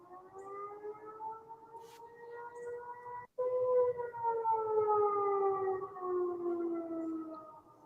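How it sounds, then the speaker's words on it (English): Campus warning sirens at UNC Chapel Hill wail steadily in long, slowly drifting tones, sounding from a distance over a faint background, with a brief cut partway through. "sirens were sounding off on campus at UNC Chapel Hill for an armed and dangerous person"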